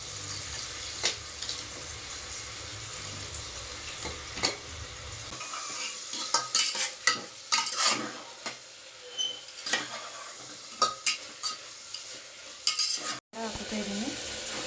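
Chopped tomatoes drop into a hot pan and sizzle, with scraping and stirring noises over a steady frying hiss in a home kitchen, loud and close throughout.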